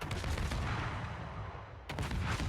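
Naval gunfire from the Harugumo destroyer in a video game, a continuous rumbling barrage of heavy booming shots with a sharp fresh blast near the end, loud and close with no talking.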